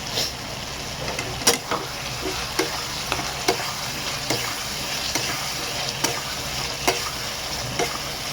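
Goat liver fries in a pan with a constant close sizzle, punctuated by regular sharp scrapes and taps of a spatula stirring roughly every second.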